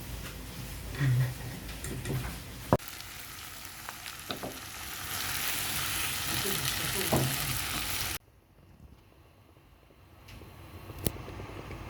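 Rounds of batbout bread dough fry and puff in a hot pan with a steady, close sizzle and occasional ticks and knocks, then the hiss drops away to quiet.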